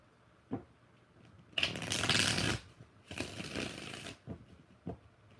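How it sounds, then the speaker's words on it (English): Tarot cards being shuffled during a live reading, two long riffling bursts of cards with a few soft taps before and after, fairly close and with no talk over them. "4 shuffles for Christiana."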